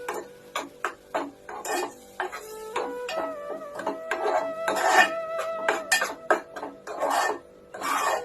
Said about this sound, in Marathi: छान असं चमच्याने वाटण दोन तीन मिनिट मिक्स करून घ्यायचं